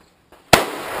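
A single sharp gunshot at a shooting-range target, loud and close, after a faint earlier knock, with a ringing decay that trails on to the end.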